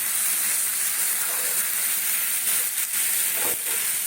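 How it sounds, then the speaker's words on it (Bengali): Button mushrooms sauté in a pan, a steady close hiss of frying with a few brief stirring scrapes and no voices. "এইভাবে আমি কষাতে থাকি"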